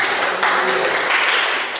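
Brief burst of classroom clapping as a group of students is applauded, a dense patter of many hands that swells and fades over about two seconds.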